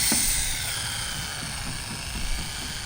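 A small electric motor in an Arrma Typhon 6S RC car running on a 3S battery whines continuously at high pitch, close and fairly loud, with a brief rise in intensity near the end.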